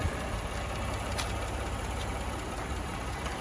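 A Ford F-150 King Ranch 4x4 pickup with an EcoBoost engine idles steadily at close range, a low, even rumble with no voices and no revving.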